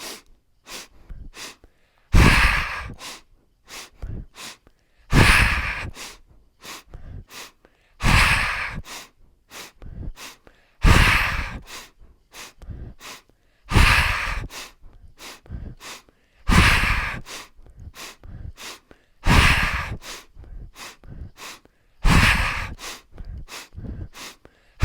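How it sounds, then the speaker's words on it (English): A person does skier-style breathwork, repeating cycles of quick sharp inhales followed by a long forceful exhale, close and rhythmic, about nine rounds with no talking. "So to do this, we're going to do 3 sharp inhales."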